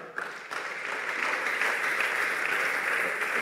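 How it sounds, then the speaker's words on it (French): A church congregation at a Bible study talk show breaks into applause to acclaim the Lord, the clapping swelling quickly into a loud, sustained crowd roar of hands. "Alors, est-ce qu'on peut acclamer le Seigneur pour cela?"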